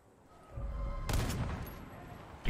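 A single sharp sniper rifle crack in the Far Cry 5 video game sounds fairly quiet, then fades slowly, with another abrupt shot starting right at the end.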